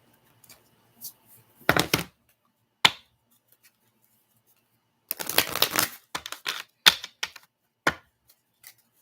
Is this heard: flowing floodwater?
no